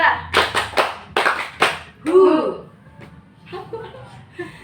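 Several unison hand claps from a group playing a counting clap game in a peer counseling session, followed by chuckles and a voice speaking.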